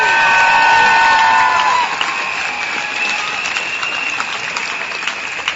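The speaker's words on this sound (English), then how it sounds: "And so we need to give them a round of applause for what they had to do" Crowd at a State Capitol rally in Sacramento applauding and cheering, a dense, loud wash of clapping and shouts from a large gathering that carries on without pause.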